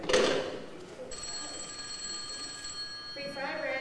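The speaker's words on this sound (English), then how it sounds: "I think the phone's been ringing," A telephone rings during a frybread telethon, a steady electronic trill sustained for a couple of seconds and sitting fairly faint behind a voice talking at the start and end.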